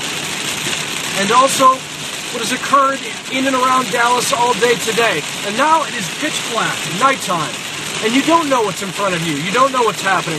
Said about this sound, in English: the rain is relentless right now.